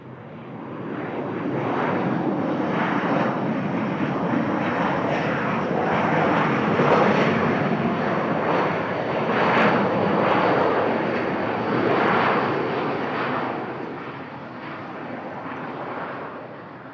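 A China Airlines Boeing 737 takes off at a Bangkok airport, its jet engines giving a loud, steady roar that holds for the whole stretch, swelling and easing slightly, with no voices.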